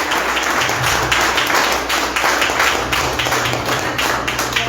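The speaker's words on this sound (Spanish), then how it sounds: "Dale un fuerte aplauso al Señor." A church congregation bursts into loud, sustained applause during a Spanish-language sermon, a dense wash of many hands clapping together for several seconds with a low hum of voices underneath.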